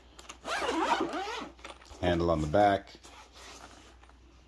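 Dual zippers on a padded Byrna pepper kit case are pulled open in two short, close raspy runs, with someone talking between them.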